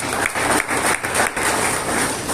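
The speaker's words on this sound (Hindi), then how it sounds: "जोरदार तालियां आप सभी लोगों के लिए।" An audience at a health awareness program breaks into loud, dense applause that carries on steadily, with slight surges, for the whole stretch.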